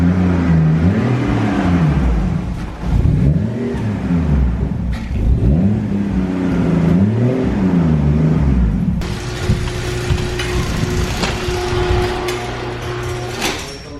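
A right-hand-drive drift car's engine revs up and down in rhythmic surges, loud and close from inside the car, then settles into a harsher steady drone with a faint turbo flutter.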